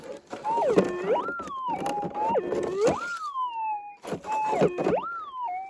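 Warbling metal detector tones over bedrock in a gorge while gold detecting sweep up and down in repeated bursts, a pause, then the same wavering signal returns, close and clear.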